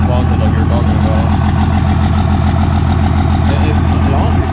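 A truck engine idles with a steady, rumbling pulse, loud and close for the whole stretch, a throaty low throb under brief talk.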